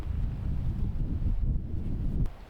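Wind on a cold, windy golf course buffets the microphone in a steady low rumble for about two seconds before easing off near the end, with no talk over it.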